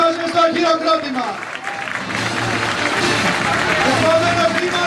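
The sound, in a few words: audience applause at a political speech in Methana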